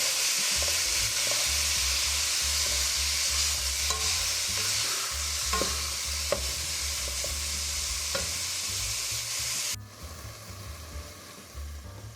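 Ground beef with onion and garlic sizzles loudly and steadily in a pan while a utensil breaks it into small pieces, with scattered scrapes and taps before the sizzle abruptly drops to a quieter hiss near the end.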